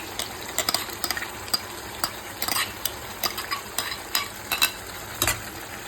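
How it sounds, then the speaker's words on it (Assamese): Oil bubbles and sizzles in a pan of chicken white gravy while a spoon stirs, with sharp scraping clinks and clatters breaking irregularly over the continuous frying hiss. "এয়া চাওক তেল পূৰা ফুটিছে আৰু তৰকাৰীখনত"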